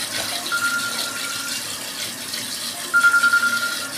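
A toilet tank refilling slowly after new internal parts are fitted, with a steady close hiss of running water and a faint high whistle from the valve.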